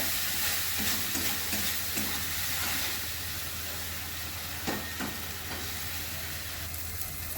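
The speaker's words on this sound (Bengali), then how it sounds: "এবার মশলাটাকে ভালো করে কষিয়ে নেব।" Spice masala with coriander powder and salt is stir-fried in a pan for masala okra, a constant loud hissing sizzle with a few scraping stirs, heavier in the first seconds.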